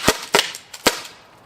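A Byrna SD launcher fitted with a 12 gram adapter fires pepper balls outdoors at night: three sharp, loud pops spaced irregularly, each with a short tail, plus a fainter snap between them.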